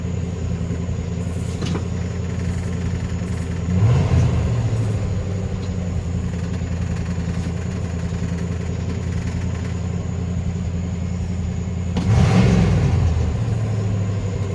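A 1978 Chevrolet C10 pickup engine, long abandoned and refusing to idle down, runs at a steady high idle with two brief revs, one around four seconds and another near twelve, close and fairly loud.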